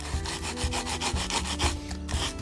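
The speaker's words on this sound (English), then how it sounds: "let me do just a little bit of light sanding on the top of that." Light sanding of a wooden guitar top around the soundhole binding: a steady run of quick, rhythmic rasping strokes, close and fairly loud, with no talking.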